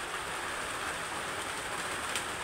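Rain falls outside during cooking of an eggplant dish, a faint, steady hiss of drops without pause or voices.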